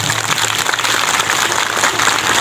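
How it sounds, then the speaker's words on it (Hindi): A crowd at a prayer meeting claps steadily and loudly, producing a continuous wash of applause with no voices standing out. "बहुत ताली बजा दीजिए।"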